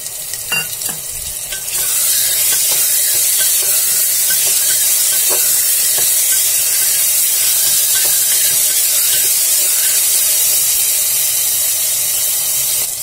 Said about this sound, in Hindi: टमाटर भी हमारा भून चुका है।